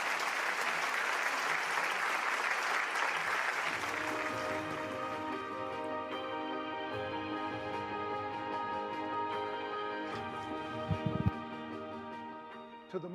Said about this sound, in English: Let us welcome Bishop Noel Jones with a warm round of applause